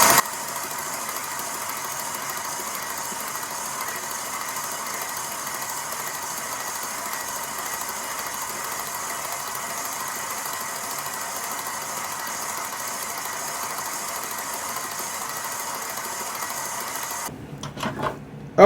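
Stand mixer running steadily at medium speed while beating a brown sugar-peanut butter French buttercream, a continuous motor whir and hum with no talking that cuts off abruptly near the end.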